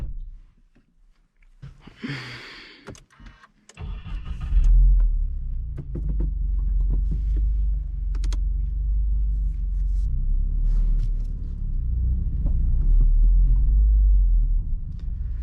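After a few quiet handling noises, a car pulls onto the road and settles into a steady low engine and road rumble from inside the cabin, loud and continuous.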